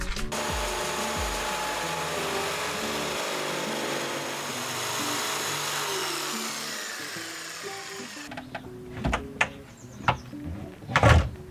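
A power saw cuts wood along a marked line with a steady whining, buzzing drone that shifts slowly in pitch for about eight seconds, then stops, followed by a few close knocks and handling clatter.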